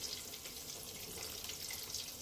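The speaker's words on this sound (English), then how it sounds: "I'm frying chicken and making these potatoes here." Steady crackling sizzle of chicken frying in hot oil, continuous and fairly close, with no talking.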